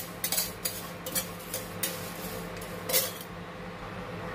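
Whole spices dry roasting in a pan for a sweet, sour and spicy pickle, with nigella seeds added, giving scattered light scraping and clinking taps of a utensil against metal over a faint steady background hiss.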